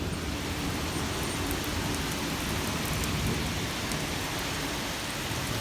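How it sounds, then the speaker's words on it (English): Heavy rain pours during a thunderstorm in Kentucky, a dense, steady roar of drops on surfaces that holds at an even loudness throughout, with no voices. "It is crazy loud rain."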